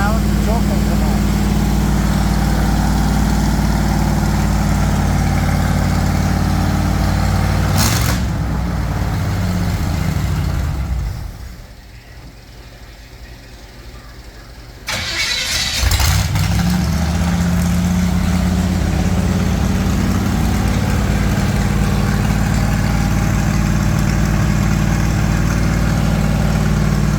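A Bombardier engine running fast on choke, a loud steady roar that dips briefly mid-way before rising again to a high idle, close by and continuous.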